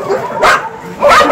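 A dog at a kennel gives two short, loud yipping barks close by, spaced about half a second apart, with the second slightly longer.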